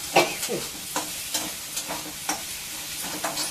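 A spatula scrapes and stirs chana dal jhunka masala in a pan, with a soft sizzle under irregular, close-up scraping strokes.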